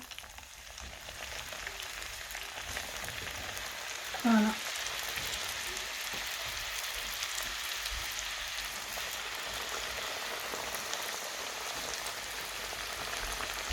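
Potato patties frying in a pan of oil give off a steady, soft, rain-like sizzle that holds throughout, with one brief tonal blip partway through.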